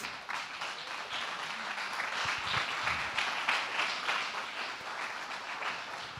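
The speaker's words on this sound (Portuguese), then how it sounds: "Dá uma salva de palmas para Jesus." A church congregation applauds for Jesus during a Portuguese-language sermon, a fairly faint, distant roll of many hands clapping that swells slightly midway and carries on evenly without talk.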